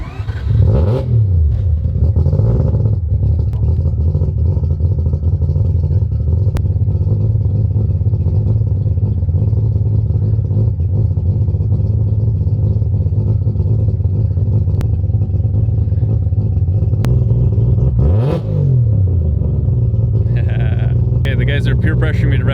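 A Mazda RX-7 with a four-rotor engine drones loudly and steadily near at hand, with a hard rev climbing and falling early on and another near the end. Background voices are faint.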